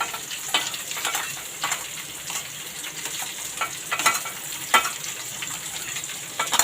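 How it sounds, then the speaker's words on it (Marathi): Chopped onion sizzles in hot tempering oil for Maharashtrian-style fried rice, a steady close crackle with periodic louder bursts as it is stirred, no voices. "तर आपण आता कांदा टाकून घेऊया."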